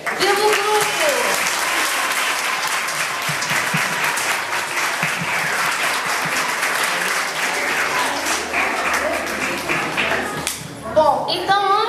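A crowd applauds steadily for the whole stretch, dense clapping with scattered voices and cheers mixed in, a few louder claps near the end.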